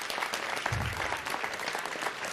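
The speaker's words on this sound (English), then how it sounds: "Everybody give Don a great big round of applause." Steady, dense applause from a city council meeting audience honoring a Citizen of the Month, filling the whole stretch at an even, sustained level with no pauses.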